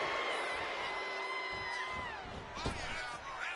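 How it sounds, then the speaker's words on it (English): Crowd in a WWE 2K25 wrestling arena cheers and whoops steadily throughout, a dense wash of distant voices with a brief swell of shouting near the end. "And Theory is firing up the crowd here."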